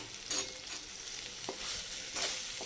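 Suji pasta is tipped into a pan of red sauce and stirred, giving a soft sizzle with scraping spoon strokes that swell in a few brief bursts, close by and fairly quiet, with no voices.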